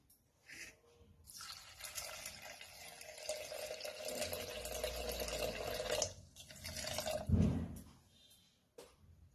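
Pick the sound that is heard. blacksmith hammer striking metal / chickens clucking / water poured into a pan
water poured into a pan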